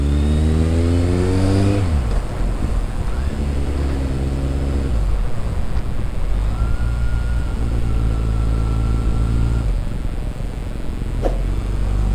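Kawasaki Z800 motorcycle engine revving up and accelerating hard on an open road in Penang, a loud, steady rising engine note that runs throughout with gear-change dips.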